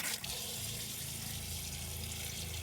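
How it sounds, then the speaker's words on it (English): Water runs steadily from a tap into the sink of a small off-grid camper van kitchen, a continuous close splashing stream that lasts throughout with no talk. "We have actual running water."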